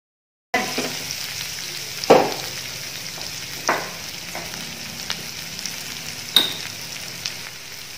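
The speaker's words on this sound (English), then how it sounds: "you're going to let your onions cook together with your meat until the onions are changing their color and they are looking a bit translucent" Onions and meat cooking together in a pan for a dinner recipe, giving a low steady sizzle with a few sharp stirring clanks and scrapes spread over several seconds, close by with no talking.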